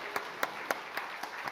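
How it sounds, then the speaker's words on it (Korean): A church congregation claps together in a steady rhythm of about six even beats, moderately loud and close, with no talk over it. "힘차게 박수 한번 합시다."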